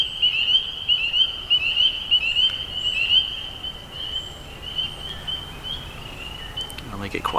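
Spring peepers by a canal peep in a dense, shrill chorus from a distance, gradually thinning out, with a brief rustle or knock near the end.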